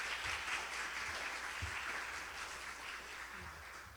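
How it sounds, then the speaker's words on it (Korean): Audience applause at the close of a medical presentation on COVID-19 in children and adolescents at a public health symposium, a steady wash of clapping filling the room for several seconds with no talk over it. "다시 한번 큰 박수 부탁드립니다"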